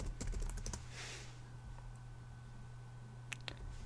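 Quick bursts of typing on a computer keyboard as an app name is entered, a cluster of close, crisp key clicks at the start and a few more near the end, over a steady low hum.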